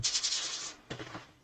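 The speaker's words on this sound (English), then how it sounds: "I am going to sand this down a little bit." Dried painted wood sanded by hand without a block: a continuous gritty rubbing stroke, then a pause and two shorter scratchy passes, close and fairly quiet.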